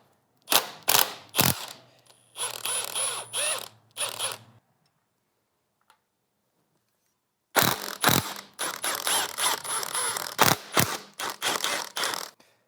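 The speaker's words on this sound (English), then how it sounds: "we're going to remove the 8mm bolts that hold down the rocker arms" A hand ratchet loosens the 8mm bolts holding the rocker arms on a 5.3L or 6.2L V8 engine, with two bursts of rapid clicking separated by a silent pause, close and clear.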